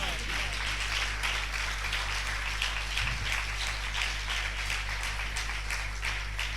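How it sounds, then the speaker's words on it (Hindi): A church congregation claps in praise during a Hindi-language sermon, a steady dense patter of many hands filling the room, with a constant low hum underneath. "आए खुदा के जलाल के लिए तालियां बजाइए"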